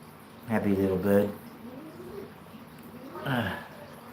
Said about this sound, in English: Happy little bird.